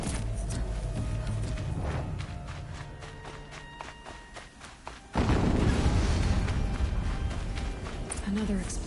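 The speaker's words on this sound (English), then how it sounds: "Another explosion." A loud explosion in the Horizon Forbidden West video game booms in suddenly midway, its broad rumble following a stretch of quieter game sounds and lingering at full strength to the end.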